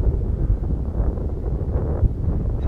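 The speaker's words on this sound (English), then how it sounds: "It's a fairly decent breeze out here." Steady wind blowing outdoors at a flying field in a fairly decent breeze, buffeting the microphone with a constant low, rumbling rush for the whole stretch, no voices.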